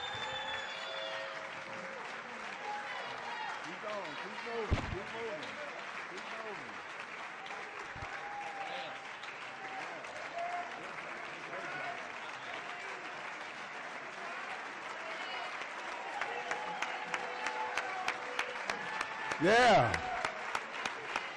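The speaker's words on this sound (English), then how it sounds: "How about a big round of applause for all of them?" A concert-hall audience applauds jazz saxophone competitors at the Thelonious Monk Institute competition, sustained dense clapping with a brief shout near the end and a voice over it, swelling louder in the final seconds.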